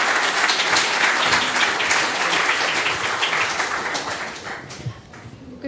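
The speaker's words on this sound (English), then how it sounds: "let's welcome them with a big round of applause" An audience at a panel event on Port of Spain claps loudly and steadily for several seconds, a dense wash of applause that thins slightly toward the end.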